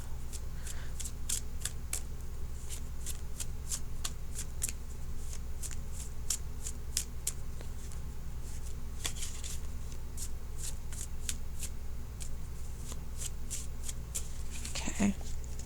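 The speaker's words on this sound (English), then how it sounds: "So now I'm going to shuffle for an outcome card." Rapid crisp riffling of a tarot deck being shuffled by hand, a long run of short papery bursts at an irregular but steady pace, close and alone without talk.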